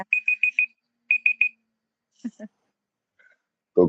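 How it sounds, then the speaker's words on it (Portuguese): A meditation timer alarm chimes in quick bursts of bright, repeated electronic beeps, first four then three, followed by brief talking. "Adorei que tocou o timer."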